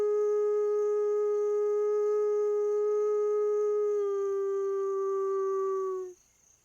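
A wolf's sustained, steady howl rings out in parkland, holding one clear pitch for several seconds before sliding slightly lower and fading abruptly; loud and near, with no voices.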